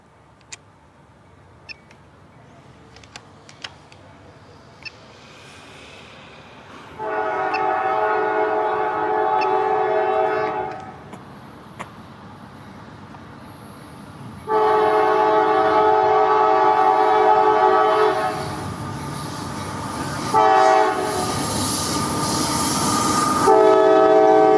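A train passes in Madisonville, Kentucky, sounding loud, sustained horn blasts in several separate bursts over a rumbling rail background, with brief sharp clicks early on.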